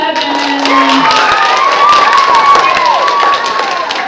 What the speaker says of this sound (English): Give a big round of applause for baby 7.